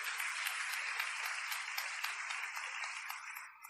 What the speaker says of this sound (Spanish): ¿Cuánto le dan un fuerte aplauso a Jesucristo?